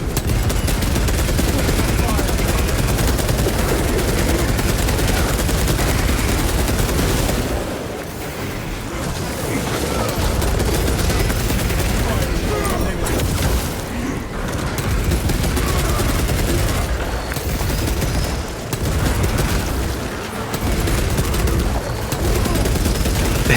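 Sustained heavy bolter fire from the game Space Marine 2 on Ruthless difficulty, rapid and continuous with booming impacts and explosions, loud throughout with brief dips in the barrage.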